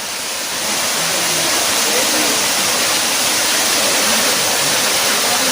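A waterfall near Jagdalpur, Chhattisgarh, water pouring from several directions as a loud, continuous broadband rush that swells in the first second and then holds steady, close by.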